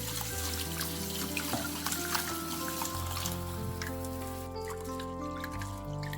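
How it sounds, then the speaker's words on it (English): Barley being rinsed in water, with close, continuous sloshing and trickling as the grains are swirled and washed, steady and moderately quiet with no talk. "First we need to wash barley thoroughly."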